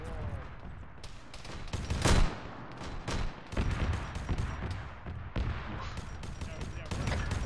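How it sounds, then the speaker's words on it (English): Dense, loud gunfire in the Warhammer 40k mod of ARMA 3, with rapid bursts and heavy shots overlapping in a continuous battle din and some radio-style voices mixed in. "Friendly forces are shooting up the road to the southeast"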